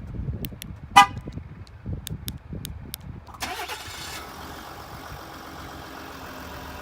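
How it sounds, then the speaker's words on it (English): A few soft clicks and a short horn chirp, then a Ford car engine cranks by remote start and catches, settling into a steady idle nearby. "you can proceed to pressing the remote start button twice and the car will start"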